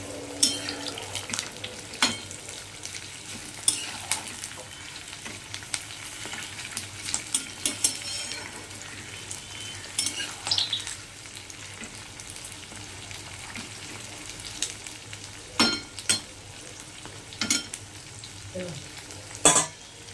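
Capsicum and a generous amount of onion fry in a pan for chili chicken, a soft continuous sizzle broken by frequent sharp clicks and scrapes of a spatula stirring against the pan.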